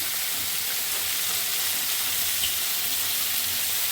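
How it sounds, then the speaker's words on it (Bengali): Steady close sizzle of food frying in a pan with turmeric and salt, a continuous bright hiss with no talk over it. "লবণ দিয়েই ভাজবো।"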